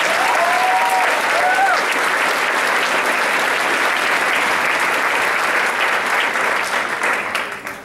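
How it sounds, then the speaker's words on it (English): An audience claps after a music performance at an event, dense sustained applause from a crowd filling the room, with a few faint voices early on, fading out at the end. "Please give him a round of applause."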